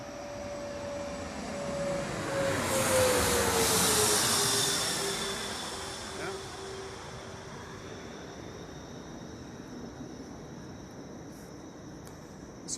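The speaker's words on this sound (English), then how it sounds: "I'm hearing a plane go overhead." Jet plane passing overhead near an airport along the Potomac, a rising broad roar with a falling engine whine that peaks loudly then fades slowly into the distance, alone without talk.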